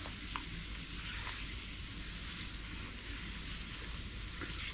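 A sauce with bouillon bubbles and sizzles steadily in a pan as it is stirred, making a continuous close frying hiss with faint scrapes and no talk.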